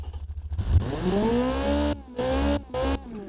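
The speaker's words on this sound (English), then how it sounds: "Manually test the engine." A car engine in the video games Automation and BeamNG revs up with rising pitch, then blips repeatedly in short bursts with brief drops between, loud and close.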